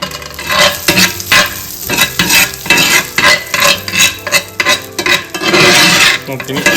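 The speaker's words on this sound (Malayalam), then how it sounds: "നമുക്കൊന്ന് വറുത്ത് പോരാ കേട്ടോ. അപ്പൊ നമ്മുടെ റൈസിൻസ് ബലൂൺ പോലെ ഉണ്ട് കേട്ടോ." Raisins frying in butter in a skillet for a shakh plov, a loud busy sizzle broken by repeated stirring and scraping of a utensil against the pan, with no voices.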